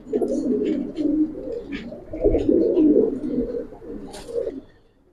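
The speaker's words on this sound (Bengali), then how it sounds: "আর উড়ানো কবুতর গুলো এখানে আছে বেশ মাশাআল্লাহ, বেশিরভাগই ইয়াং কবুতর।" Giribaz flying pigeons, mostly young birds, coo in a loft: close, repeated throaty coos roll on continuously, with a few light higher chirps above them.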